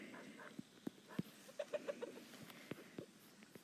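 Chickens cluck softly in a short series of low, separate calls, faint and fairly distant over a quiet background.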